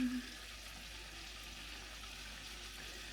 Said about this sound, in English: And we are about to have fried shrimp.